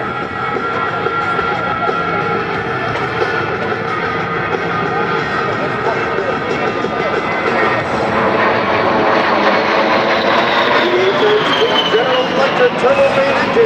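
An A-10 jet with turbofan engines roars through an air show flypast, a loud sustained engine drone that swells and shifts pitch as it passes, with a faint voice commentating beneath it.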